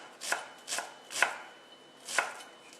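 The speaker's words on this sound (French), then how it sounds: "Donc aujourd'hui une échalote, parce que j'ai de belles échalotes. Que je vais émincer tout simplement." A knife finely slicing a shallot on a cutting board, giving four crisp chopping taps at an uneven rhythm, close and clear with no voices.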